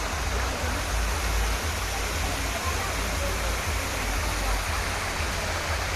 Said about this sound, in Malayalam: ഈ ഒരു വെള്ളച്ചാട്ടത്തിൻ്റെ സൗണ്ടെല്ലാം കേട്ടിട്ട് ഇവിടെ ഇങ്ങനെ ഇരിക്കാം